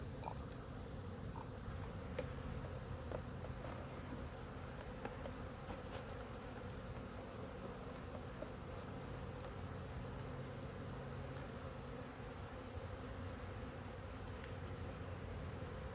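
A dense, steady buzzing of many young bees being shaken into a ball, close and constant, with occasional faint taps and rustles.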